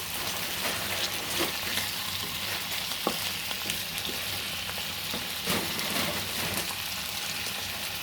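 Chicken feet sizzle steadily in a hot pan for adobo, a dense, continuous crackle with scattered louder pops, close and fairly loud, with no talking.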